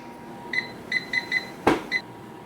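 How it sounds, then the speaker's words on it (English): A kitchen oven timer goes off with a run of short, sharp electronic beeps in an uneven rhythm, clear and close, plus one brief clatter partway through, over quiet room tone with no talking. "our oven timer just went off"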